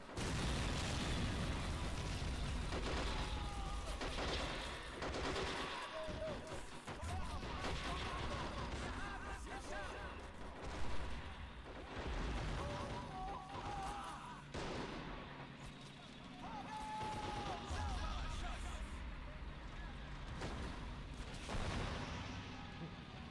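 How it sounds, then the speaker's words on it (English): An RPG rocket hits the ground in the Men of War Assault Squad 2 video game among repeated booms and crashes of battle noise, with talk heard over the sustained din. "RPG shot at the ground there"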